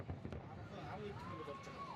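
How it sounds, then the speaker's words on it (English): Faint fireworks crackle and pop far away across the city during an independence day celebration, scattered soft bursts under a steady wash of background noise and murmuring. "Background. Fireworks everywhere."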